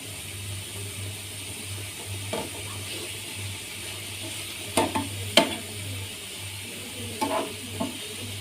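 Carrots stir-fried in a pan for vegetable paratha rolls, a soft continuous sizzle beneath a low hum, with a few sharp scraping knocks of a spatula against the pan near the end.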